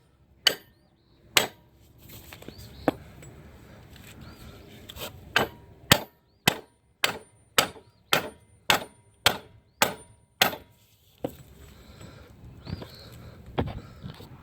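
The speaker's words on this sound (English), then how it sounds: "we're going to be using this pickle fork" A heavy hammer strikes a steel pickle fork, the separator tool used to split a ball joint during front control arm replacement on a 2013–2016 Dodge Dart. The blows ring out loud and metallic, a few spaced hits at first, then a fast steady run of about ten.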